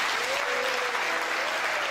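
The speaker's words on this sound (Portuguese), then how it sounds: "Vamos aplaudir em nome do Senhor Jesus." Applause from a church congregation celebrating a group baptism, a steady dense clapping that fills the whole moment at moderate loudness, with a faint sung or sustained tone drifting underneath.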